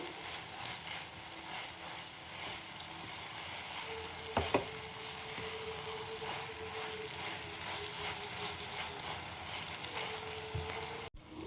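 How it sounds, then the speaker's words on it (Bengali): Sugar melting in a pan while being stirred for sita bhog, a steady soft sizzle with faint scraping of the spoon, quiet and continuous throughout. "চিনিটা গলতে আরম্ভ করেছে, কিন্তু এটা একটু চিপকে যাবে, ভয়ের কিছু নেই। এটা এইভাবেই চালাতে হবে।"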